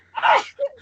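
A single sharp sneeze bursts out close to the microphone, followed by a brief breathy after-sound, with no talk around it.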